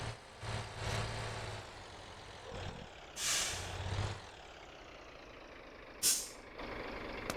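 Truck air brake in the MotorTown driving game releases two sharp pneumatic hisses a few seconds apart over a steady low idling engine rumble, with no talking.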